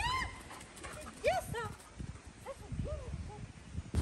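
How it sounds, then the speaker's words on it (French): Dog sounds with a Malinois nearby: several short whimpering yips and whines rising over scattered footsteps and handling noise, moderately close, alongside faint background voices. "Il y a un chien derrière."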